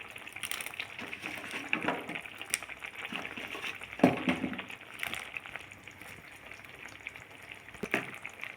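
Water poured into a pressure cooker holding sago for payasam, a soft splashing and gushing with a few louder bursts, fairly faint and close, with no talk.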